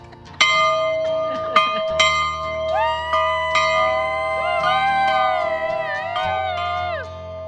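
A bell is struck several times up close, each loud clang leaving a long, bright ringing tail. Later, gliding voice-like calls and tones blend with the fading rings.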